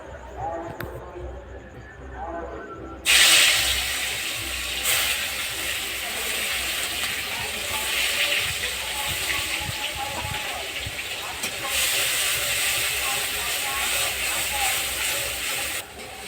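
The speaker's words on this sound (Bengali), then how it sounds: "একই তেলে কড়াইতে আমি পেঁয়াজ বাটা দিয়ে দেবো।" Onion paste hits hot oil with a sudden burst of sizzling, then a strong steady hiss and crackle continues close by.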